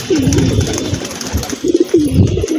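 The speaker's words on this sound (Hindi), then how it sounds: "कितना हाँप रहा है दोस्तों कबूतर" A freshly caught wild pigeon, held close, makes loud, rhythmic breathy coos and rasping pants in repeated pulses, with handling noise around it.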